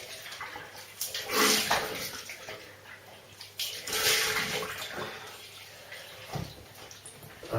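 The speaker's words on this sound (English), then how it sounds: "So we'll just rinse that off. And rinse my face." Running tap water splashing as a razor and face are rinsed after a shave, with bursts of splashing and dripping close by, no talk.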